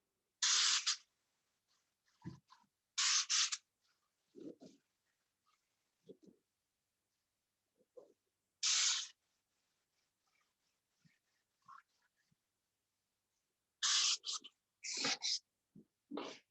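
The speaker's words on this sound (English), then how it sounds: "So that's the first coat of lacquer on there" Lacquer sprayed in short hissing bursts onto a leather car seat, about half a dozen close spray blasts separated by quiet pauses with faint handling noises between them.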